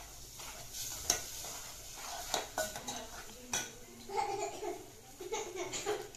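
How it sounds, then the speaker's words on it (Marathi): Ground masala paste is stirred and fried in a pan in a home kitchen, with a faint sizzle beneath intermittent metal spatula scrapes and clinks against the pan. "आता ती सगळं हे वाटण मस्त परतून घेणार."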